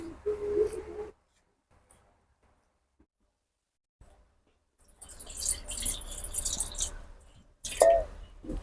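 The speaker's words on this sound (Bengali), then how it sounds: "এই যে এইভাবে চিপে চিপে কিন্তু আমি 2 থেকে 3 বার ধুয়ে নেব।" Soaked soybean chunks are squeezed by hand and washed in cold water, giving close wet squishing and dripping in two bursts separated by a few seconds of near silence, with no talking.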